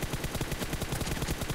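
Rapid automatic gunfire in the PUBG Mobile game, a dense, loud, continuous burst of shots at an even fast rhythm, alone with no talk.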